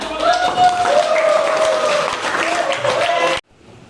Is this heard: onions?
no